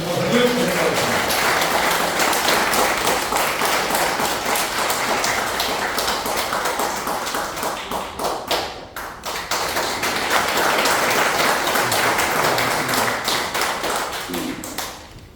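An audience at a lecture in the Park Chung-hee memorial hall breaks into sustained, loud applause, with a dense patter of many hands. It dips briefly midway before swelling again and tapering off.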